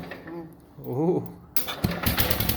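A Ford garden tractor engine is choked and cranked on a cold 26-degree morning, first a quieter starter-like sputter under a spoken voice, then abruptly catching into a loud, busy running roar.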